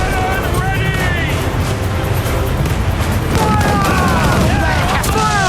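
Ship cannon fire in Assassin's Creed IV: Black Flag, a loud continuous barrage of booming blasts with shouted crew voices and whistling over the rumble.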